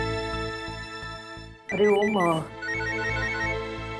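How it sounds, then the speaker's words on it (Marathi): A mobile phone ringtone cuts in as one short, bright melodic burst over quiet background music, then fades back under the music; a single word is spoken. "अरे ओम फोन येतोय"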